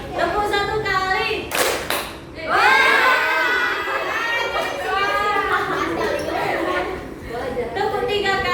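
A group claps in rhythm during a classroom clapping game, with a loud burst of hand claps breaking into a stretch of voices chanting together in unison.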